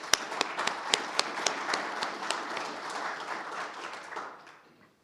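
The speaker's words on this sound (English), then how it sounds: "just give Travis a quick applause" Audience applause for Travis at an energy collaborative meeting: a sparse, moderate round of clapping with a few sharp individual claps standing out, tapering off and fading away near the end.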